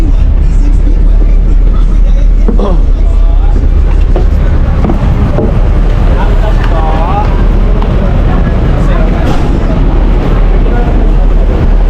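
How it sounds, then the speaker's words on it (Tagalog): Dense road traffic of cars and buses on a congested city route in the Philippines, a constant loud engine and road rumble with no break, while people talk close by throughout. "Grabe traffic ng biyahe."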